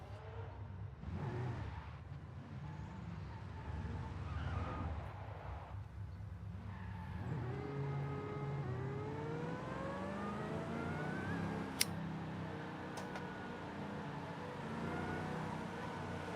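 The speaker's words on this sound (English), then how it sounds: "I like cruising along and just doing cheeky little burnouts here and there" A car in the video game Fortnite cruises and does burnouts, its engine whirring and revving in repeated rising sweeps, faint and steady, with a sharp click near the end.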